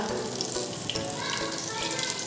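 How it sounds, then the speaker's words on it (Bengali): Banana flower fritters sizzle steadily in hot oil, a continuous close crackling hiss throughout with a faint voice in the background. "দেখো মোচা বড়া হচ্ছে মোচা"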